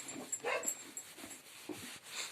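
A dog near a goat pen gives soft, scattered yips and whimpering barks at a moderate distance, repeating irregularly over a steady outdoor background.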